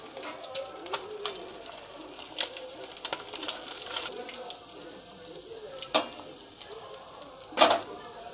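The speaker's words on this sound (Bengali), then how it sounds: "তো দেখো ফ্রেন্ডস মাছটা ভাজা করেছি, খুব সুন্দর মাছটা ভাজা হয়েছে।" Small hilsa fish frying in hot oil in a Bengali home kitchen: a steady close crackling sizzle broken by sharper spattering pops, with no talking.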